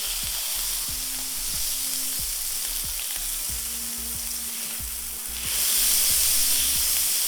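Smash burger patties fry on a hot griddle with a steady, close sizzle, while a spatula scrapes and taps in a regular rhythm and the frying swells louder near the end.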